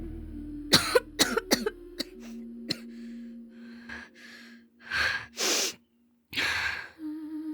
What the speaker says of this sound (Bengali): গলা চিরে দমকা একটা কাশি বের হয়ে এলো তার